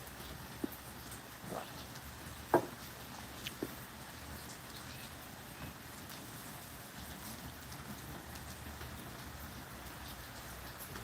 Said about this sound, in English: It sounds like a nice night though, raining.